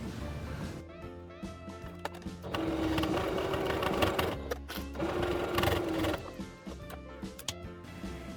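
Close clicks and handling sounds lead into a sewing machine stitching fabric binding on a notebook case, with two steady bursts of fast, rhythmic whirring broken by a short pause, then more light clicking as it stops.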